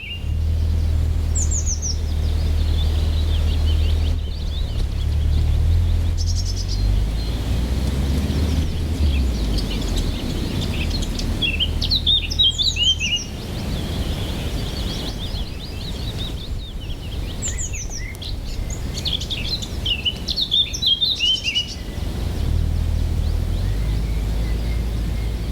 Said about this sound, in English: of the late spring sounds we've got around here. The bird song and the weather.